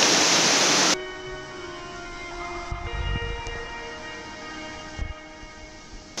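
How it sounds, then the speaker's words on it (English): Steady broadband rush of water at the fifth waterfall on the Ingleton Waterfalls Trail in the Yorkshire Dales, heard from a thin see-through bridge, with a louder burst at the start before settling into a constant roar. "now up to the fifth waterfall."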